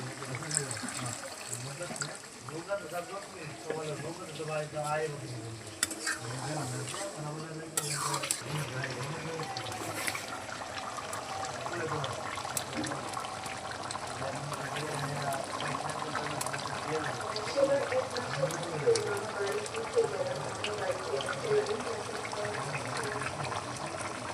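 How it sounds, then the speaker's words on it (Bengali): Water pours and trickles into a pot of braised meat curry over a clay stove, a continuous close liquid flow with gurgling, fairly quiet. "মাংস কষানো হয়ে গেছে এখন পরিমাণ মতন জল দিয়ে দিব"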